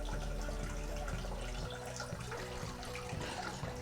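Water runs through a brewing sparge plate in separate streams, a soft, continuous trickle and splash. A low hum underneath cuts out partway through.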